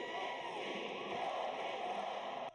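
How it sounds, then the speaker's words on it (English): A crowd of basketball fans at a welcome-home celebration in the Dean Dome roars and chants in a dense, steady wash of voices that cuts off abruptly at the end. "But all that cheering was generated by the same exciting realization."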